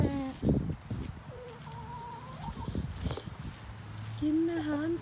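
Hens clucking softly nearby while eating feed pellets in the morning, amid rustling and pecking sounds, with a few higher calls and some background noise throughout.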